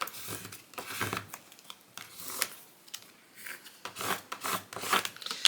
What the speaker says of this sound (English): And then let's get this scraped down.